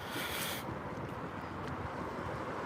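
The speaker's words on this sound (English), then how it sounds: "so the wind's picked up" Wind picking up outdoors in an open treeless spot, a steady broadband rush of gusts against the microphone, fairly loud and continuous with no talk.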